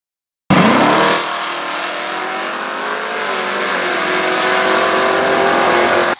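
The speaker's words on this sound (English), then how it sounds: "Number 9, 1969 Ford Torino GT." A 1969 Ford Torino GT with a 302 cubic inch V8 fires up and revs hard, then settles into a loud, sustained roaring drone, close and alone.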